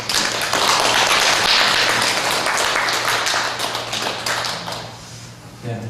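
A church congregation applauding, a loud dense burst of many hands clapping that gradually thins and fades over several seconds.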